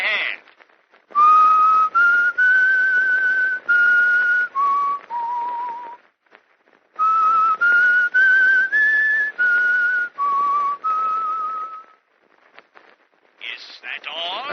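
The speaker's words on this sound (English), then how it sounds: "I'll whistle the tune for you over the telephone." A man whistles a melodic tune over a telephone line, with clear sustained pitched phrases in two long runs separated by a pause, sounding thin and narrowband as if heard through a phone.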